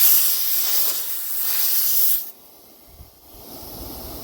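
An Outdoormaster Shark 2S electric pump inflating a paddle board: a steady hissing rush of air for about two seconds cuts off abruptly, leaving a low mechanical hum with faint clicks.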